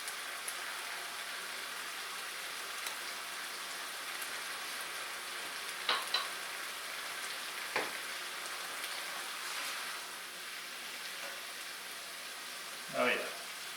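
An asparagus and grape tomato pasta sauce with wine cooks down in a pan, giving a soft, even sizzle and bubbling hiss throughout, with a few faint clinks and brief quiet voice sounds over it.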